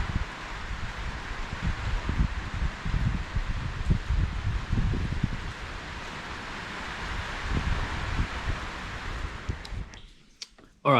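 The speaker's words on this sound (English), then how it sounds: "I like the sound of rain" Steady rain hisses and patters on a hiking trail, a dense even wash of sound with low rustling gusts, cutting off near the end.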